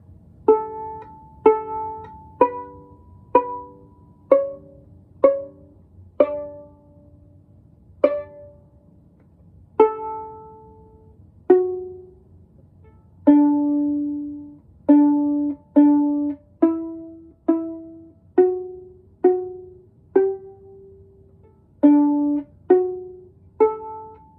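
A beginning violin or viola plays a simple practice tune, as a steady series of about two dozen separate, clear notes, each ringing briefly and fading before the next, alone against a quiet background.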